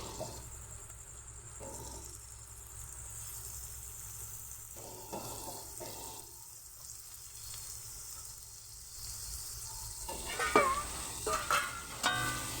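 Small chicken pieces frying in a pan, a soft steady sizzle with faint stirring scrapes and a few brief louder clatters near the end, quiet and close with no speech.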